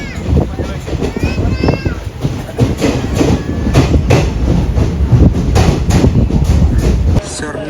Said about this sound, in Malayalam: WAP1 ലോക്കോ വെച്ചുകൊണ്ട് വരുന്ന വണ്ടി ഇതാണ്ട് കോയമ്പത്തൂർ മംഗളൂരു സെൻട്രൽ എക്സ്പ്രസ്